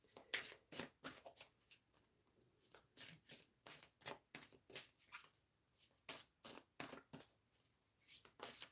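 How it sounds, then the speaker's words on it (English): Cards are shuffled over and over in quick, crisp riffling bursts, close and soft, with a steady rhythm and no talking. "I do like to shuffle until a card jumps out."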